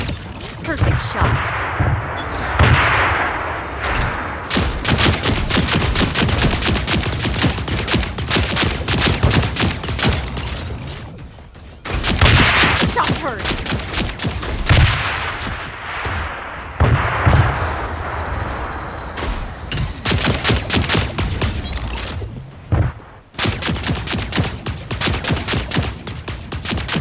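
Gunfire from the Super Mecha Champions video game comes in dense, rapid bursts of sharp shots with brief gaps between volleys, loud and continuous across the clip.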